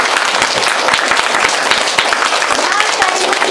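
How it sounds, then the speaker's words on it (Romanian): An audience claps at a kindergarten celebration. The applause is dense, loud and sustained, with individual claps blending into a steady wash. "aplaudem"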